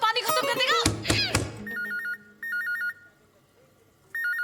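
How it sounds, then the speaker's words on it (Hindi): A telephone rings with a repeated electronic trill in two short bursts, heard right after a burst of lively voices talking and a thump indoors. "फोन की घंटी बज उठी"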